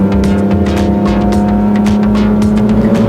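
A 1997 Ford Probe GT on the move gives a loud, steady engine drone heard from inside the car, with a constant low hum and no talk over it.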